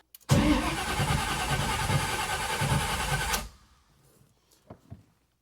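A big block Chevy V8 with a Powermaster starter cranks briefly and catches, roaring loudly for about three seconds before cutting off abruptly, followed by faint clicks and ticks.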